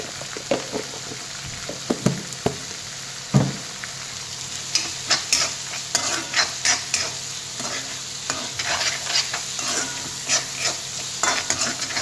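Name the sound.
sautéing tomatoes with salt in a pan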